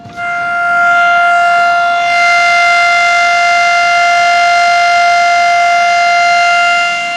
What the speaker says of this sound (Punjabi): ਇਸ ਸਾਇਰਨ ਦੀ ਜਿਹੜੀ ਆਵਾਜ਼ ਹੈ ਉਹ ਲਗਾਤਾਰ ਸੁਣਾਈ ਦੇ ਰਹੀ ਹੋਣੀ ਆ ਤੁਹਾਨੂੰ